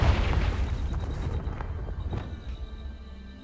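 Bombarda and Confringo explosion spells in Hogwarts Legacy go off as a loud, rumbling blast at the start, with several further booming impacts decaying into a low roar over a few seconds.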